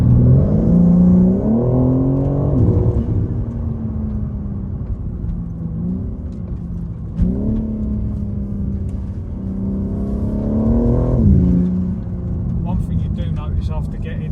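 A BMW G80 M3 fitted with an Eventuri intake pulls under acceleration, its engine note climbing in pitch, dropping at each gear change and rising again, heard as a loud, steady drone from inside the car.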